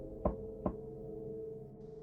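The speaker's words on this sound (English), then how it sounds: "There was a knock at the door." Two quick knocks at a door, close and sharp, about half a second apart, over a low steady hum that carries on afterwards.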